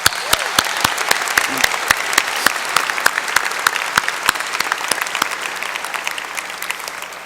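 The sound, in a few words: applause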